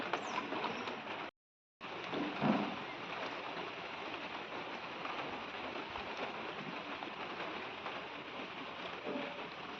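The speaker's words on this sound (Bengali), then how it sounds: "সবাই দেখতে পাচ্ছেন বৃষ্টি হচ্ছে।" Steady rain pours down outdoors on a rainy morning, a dense continuous hiss of drops on surfaces with a brief cut near the start, close and even throughout.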